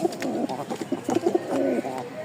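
Fantail and racing pigeons coo close by in soft, repeated throaty phrases, a low rolling burble over a quiet background.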